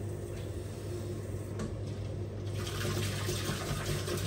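Water runs steadily into a sink with washing-up liquid, building bubbles, a continuous close splashing rush that grows slightly brighter midway, with no voices.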